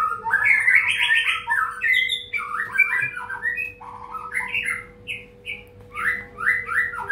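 A tame long-tailed white-rumped shama (murai batu) sings in a hanging cage, delivering loud, varied whistled phrases and chirps in quick bursts with brief pauses, close and alone.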